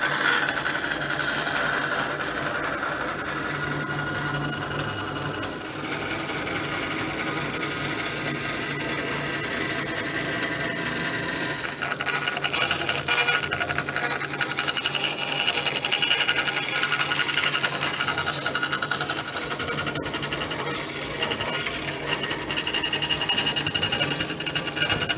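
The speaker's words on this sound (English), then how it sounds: "I could cut that on the bandsaw" Bandsaw cutting wooden transom planking for a boat build, a steady loud buzzing whine with shifting grinding texture as the blade works through the wood, running continuously throughout without talk.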